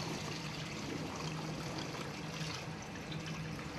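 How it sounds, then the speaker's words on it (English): Floodwater from a hurricane in the Caribbean pours into a room through an air conditioning vent, a steady, loud rushing and trickling wash with no voices. "Water's coming up to the first floor now."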